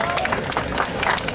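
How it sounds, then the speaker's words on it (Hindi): Crowd of demonstrators at a protest rally at Jaipur's Shaheed Smarak clapping in a continuous, loud, dense burst of applause, with voices mixed in. "जोरदार ताली बजा करके"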